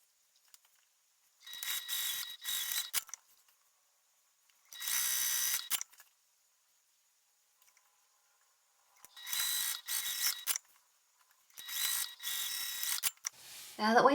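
A sewing machine stitches fabric pieces for a crossbody bag in four short separate bursts of fast mechanical whirring, close and clear, with silent gaps between runs.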